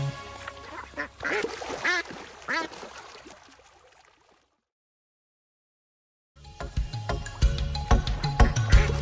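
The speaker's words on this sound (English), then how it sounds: "Mommy duck said quack, quack, quack, quack" Repeated duck quacking, loud and close, in a busy run of calls, then a few seconds of silence before more quacking resumes over a deep rumble.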